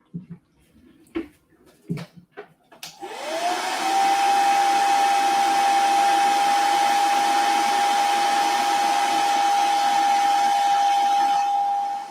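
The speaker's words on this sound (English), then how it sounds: "That's my hairdryer." A handheld hair dryer switched on after a few knocks and clicks, then running loud and close with a steady whooshing blast and a constant high whine for about nine seconds.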